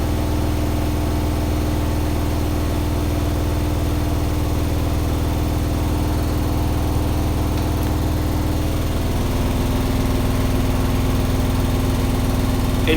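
A Hotpoint HE7L492 washer-dryer spinning unbalanced at 1400 RPM with a suds lock, giving a loud, constant droning rumble with a slight shift in tone near the end, with no voices.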